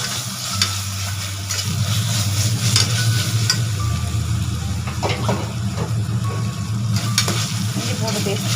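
Onions, chicken and ginger garlic paste sauté in a pan with a loud, continuous sizzle, stirred with scraping clicks over a low steady hum, close and without talk.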